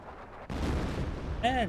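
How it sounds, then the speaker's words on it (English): A sudden artillery blast in the Company of Heroes strategy game opens into a sustained low rumbling roar, close and heavy, with a voice briefly audible near the end. "I think I hear artillery running on in."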